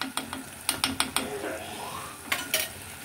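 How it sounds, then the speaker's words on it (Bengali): A spoon stirs chili powder and turmeric into softened tomatoes in a pan for Andhra-style tomato dal, giving a series of sharp scraping clinks in an uneven rhythm over a faint sizzle, close and fairly quiet. "এবার এই মশলা দুটো দিয়েও একটুখানি ভালো করে নাড়িয়ে নিতে হবে, মিশিয়ে নিতে হবে"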